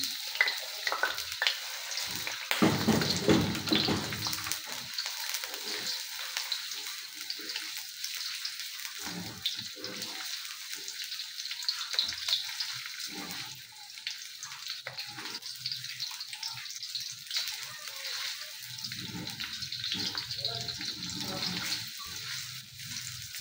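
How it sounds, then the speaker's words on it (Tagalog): Garlic and onion sauté in a hot pan, a continuous crackling sizzle with stirring, loud at first and settling into a steady fry with occasional clinks. "Let's saute our garlic and onion."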